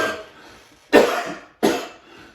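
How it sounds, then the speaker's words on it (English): Two sharp, harsh coughs burst out close up, a brief pause between them, in an otherwise quiet room. "I'm actually going to leave these coughing fits in if you don't mind, and mine too."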